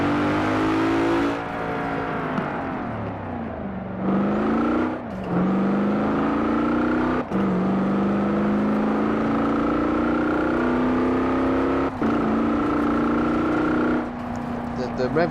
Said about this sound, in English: You can hear the old AMG noise that you normally hear.